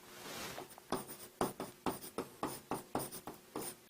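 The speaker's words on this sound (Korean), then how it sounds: "지우고 한번 다시 써볼게요." Marker or chalk strokes on a board, a series of about a dozen short scratchy strokes in a loose rhythm, close and clear with no talking.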